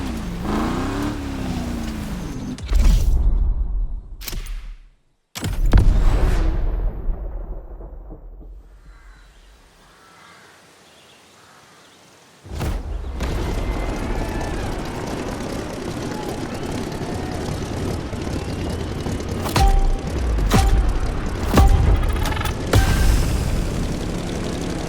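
Aircraft taking off on a Hawaiian island in the racing game The Crew Motorfest: a loud engine roar swells, cuts out briefly, fades to near quiet, then returns as a sustained, powerful rumble with sharp clunks.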